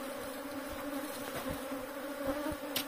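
Honeybees buzz densely around an opened hive during a honey harvest, a steady droning hum close to the ear, with a few brief handling knocks and rustles underneath.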